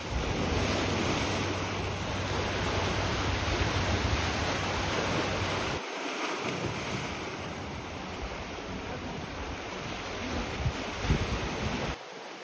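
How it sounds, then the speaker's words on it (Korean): Sea waves crash against the rocky shore at Yeongdeok Haemaji Park on the Korean coast, a steady, loud, close roar of surf with wind buffeting the microphone throughout. "바위에 부딪히는 파도 소리에 귀가 즐거워집니다"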